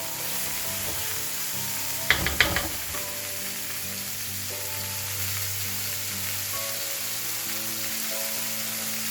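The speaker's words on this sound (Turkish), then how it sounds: "Marullarımızla beraber kavrulmasını sağlıyoruz bu şekilde." Chicken and mushrooms with lettuce sauté in a sac pan, a steady loud sizzle throughout with a brief burst of clattering stirring early on.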